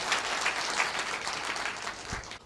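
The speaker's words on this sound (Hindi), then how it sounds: "एक जोरदार ताली पहले सबसे पहले आप सभी के लिए।" Dense, steady applause from a seated audience at a Hindi-language leadership talk, with many hands clapping together at an even loudness throughout the short burst.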